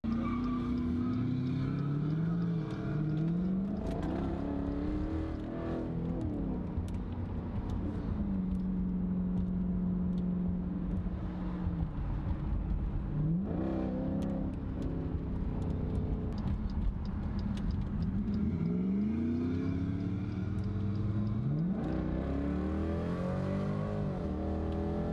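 Dodge with a 5.7 stroker 392 V8 revving hard, loud throaty engine rising and falling through repeated rev sweeps and sustained idling drones, close and continuous for about twenty-five seconds.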